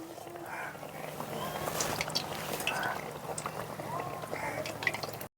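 Malpua batter fries in hot oil with a soft, steady bubbling and scattered faint pops. The sound is quiet and close, and brief utensil clinks come through.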